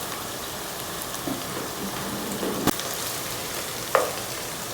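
Chicken with bitter gourd fries in a pan, a steady moderate sizzle with a couple of sharp knocks from a stirring spoon.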